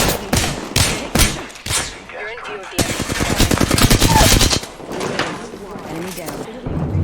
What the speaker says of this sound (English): The second squad is firing.